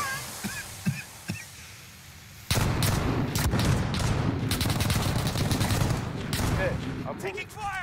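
Rapid automatic gunfire in Call of Duty: Warzone, erupting suddenly after a few seconds of quieter play and continuing loud and dense, with a voice talking early on.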